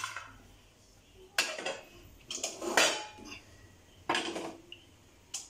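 A heavy iron griddle (tawa) being set on a stove, several loud metallic clanks and scrapes in separate bursts with quiet gaps between, close and without voices.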